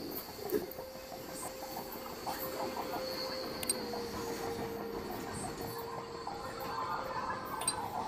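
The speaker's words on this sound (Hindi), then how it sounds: "फुली लोडेड कोल फ्रेट ट्रेन है भाई" A fully loaded coal freight train hauled by an MLW locomotive in Trainz Simulator, heard as steady rolling wheel rumble with rhythmic clickety-clack, a faint wheel squeal and a hissing tone, fairly quiet and without talk.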